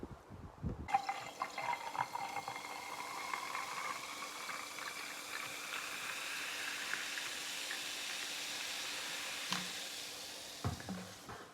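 A pint of tonic water fills a glass after a short clatter, with a steady fizzing, bubbling pour that rises gently in pitch and sustains for several seconds before a few faint clinks at the end.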